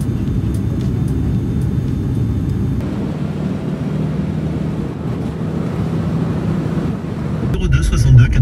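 Steady low roar of an airliner cabin in flight to Réunion, a continuous broadband rumble of engines and airflow filling the space, with some faint chatter underneath.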